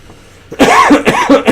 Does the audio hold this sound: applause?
no